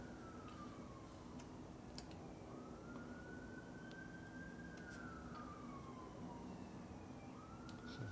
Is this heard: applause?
no